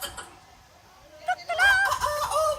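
A person imitates a chicken with a string of high, squawking clucks after a brief quiet stretch, close to the listener.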